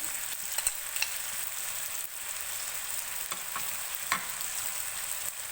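Sliced potatoes frying with turmeric, ground red chili, crushed red chili and a green chili, with a constant close sizzle and occasional scrapes of stirring heard alone.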